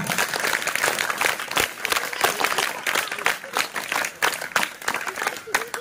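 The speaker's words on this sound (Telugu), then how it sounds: "మీ చప్పట్లు వింటే ఒక ఆనందం ఉంది సార్" Applause from a crowd at a school function, dense continuous clapping filling the whole stretch, loud and close, swelling and easing in waves.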